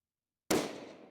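A single sharp rifle shot from a 6 Dasher Accuracy International at a 100-yard range, an abrupt loud crack after half a second of silence, followed by a decaying echo.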